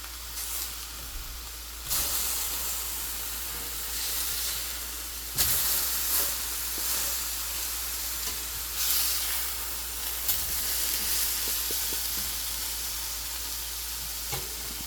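Turkey burgers sizzle loudly and steadily on a hot cooking surface with a constant hiss, and several bursts rise as the patties are flipped over; no one speaks.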